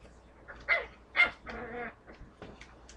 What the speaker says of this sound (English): The puppy seems to be ripping out some paper